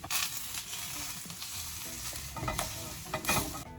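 Vegan sausages are moved into a bigger pot and stirred, giving a close sizzling hiss broken by bursts of scraping and clatter from the spoon, with no speech.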